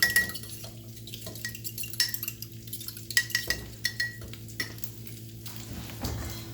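Eggs with ground pepper being stirred in a bowl for an omelette, giving soft repeated scraping and clinking of a utensil against the dish, close and fairly quiet, with no one talking.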